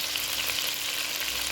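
Five green chillies hit oil left over from frying prawns, giving a steady, close, continuous sizzle and hiss with no voices.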